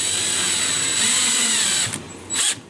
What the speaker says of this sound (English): So what he did is he drilled them out.